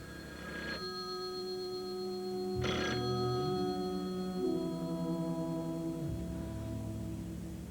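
A telephone in a 1983 television drama keeps ringing, with two brief bell bursts over a steady tonal hum and low background sound, and no voices heard.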